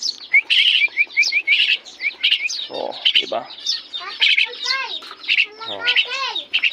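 A maya bird, a sparrow, chirps and squawks in quick, repeated high tweets close by, with a few harsher calls mixed in while people speak briefly nearby.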